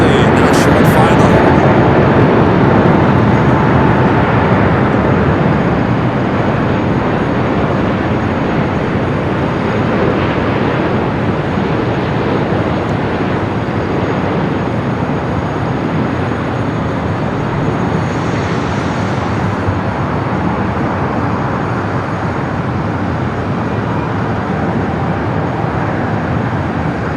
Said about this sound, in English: A380 starting its roll down to 24 left.